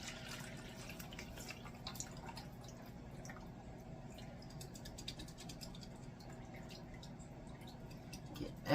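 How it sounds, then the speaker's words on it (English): Juice from canned turkey draining into a container, a faint continuous trickle with small drips over a steady low background hum. "I'm going to drain off all of that juice, because we want all of that"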